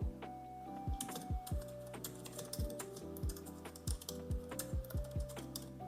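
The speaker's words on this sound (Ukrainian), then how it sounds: "воно зробило мені адекватний звук під саме е, друкування" Rapid keyboard typing, a steady clatter of keystrokes in uneven bursts over a soft tonal background.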